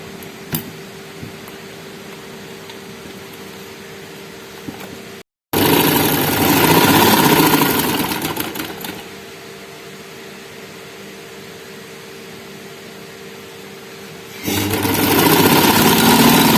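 Electric sewing machine running in bursts while stitching the open side seam of a girl's frock: a brief low hum, then a louder steady whirring run after a short gap, easing off and picking up again near the end.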